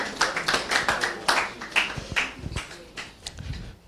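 An audience at a renewable energy innovation challenge demo day claps in a burst of applause, with scattered, uneven hand claps rising and thinning over a few seconds.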